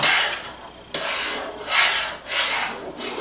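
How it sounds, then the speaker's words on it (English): A spoon scrapes steadily through Hershey's cocoa fudge mixture in a pot on the stove, making close, raspy strokes that swell and fade in a loose repeating rhythm, with no talking. "stirring constantly, waiting for some sort of boil to happen"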